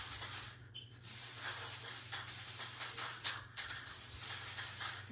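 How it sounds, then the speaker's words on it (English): An aerosol spray paint can hisses steadily while coating a recycled tin can for a primitive jar craft, the close, continuous spray running through the whole stretch with brief pauses and a low hum underneath. "We're going to spray."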